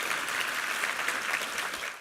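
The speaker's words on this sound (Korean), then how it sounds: "우리 하나님께 감사와 영광의 박수 올려드리겠습니다" A church congregation claps together after a sermon reading, a dense, steady wash of applause that stays loud throughout and eases off slightly at the end, with no voices on top.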